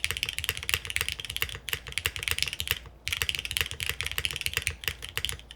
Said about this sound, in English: I think the granite switch sounds way better as the plastic plate spacebar.